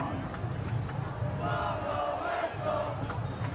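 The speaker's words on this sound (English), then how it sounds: "Crowd once again imploring Elton Garcia to blow it." A stadium crowd at a Tampa Bay Rowdies versus Louisville City FC soccer match, deep into stoppage time, keeps up a steady roar and shouting for the referee's final whistle. The noise is dense and sustained, with faint voices mixed in.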